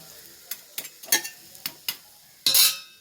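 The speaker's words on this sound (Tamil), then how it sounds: "இந்த கேழ்வரகு மாவில் ரொட்டி சுட்டுட்ருக்கேன்" Ragi flour roti cooking in a pan, with a series of sharp scraping and tapping sounds from a utensil against the pan at irregular intervals, ending in a louder, brief sizzling scrape.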